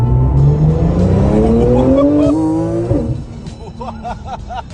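Porsche 911 fitted with a Topcar carbon-fibre body driving on the road, its engine note rising steadily through the gears with a loud, close growl before easing off, while faint voices come in near the end.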